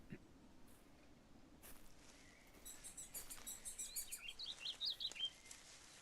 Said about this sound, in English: Some good birds.